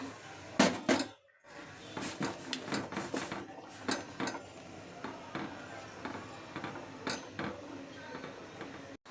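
Semolina goes into a bowl of batter for patishapta pitha, with clattering bowl and utensil knocks, scraping and a few louder clanks close by, and faint voice now and then.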